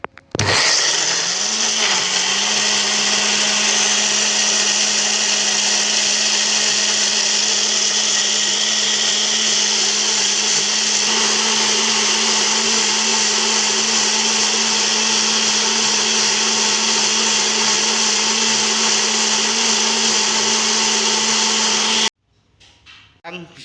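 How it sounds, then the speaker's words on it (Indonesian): An electric kitchen blender runs steadily at close range for about twenty seconds with a loud, even motor whine, then switches off abruptly, leaving a few faint knocks. "Sekarang kita blender."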